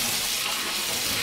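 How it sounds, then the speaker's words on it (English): Tap water runs steadily into a sink with a broad, even hiss, close and fairly loud throughout, with no talking over it. "I'm going to turn on my water"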